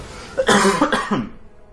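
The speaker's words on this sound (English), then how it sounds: "Excuse me, cough something in my throat there" A single short, harsh cough close to the mic, breaking into a couple of rough bursts before fading.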